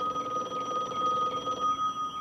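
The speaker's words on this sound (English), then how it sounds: "Your phone is ringing." A telephone bell rings in an indoor scene, a bright repeated electronic trill with steady tones running through the whole moment, heard alone without speech.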